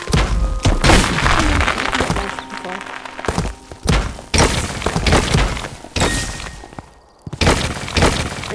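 Cube ability in the Rumble video game blasting repeatedly, a series of loud thumping, shattering bursts in quick succession, each followed by a short gap before the next impact.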